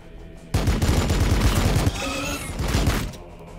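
Weapon shots in the Warhammer 40,000: Battlesector video game: a sudden loud blast opening into sustained heavy firing with crackling impacts and a second surge, then fading to quiet.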